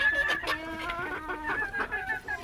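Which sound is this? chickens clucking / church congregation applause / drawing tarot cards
chickens clucking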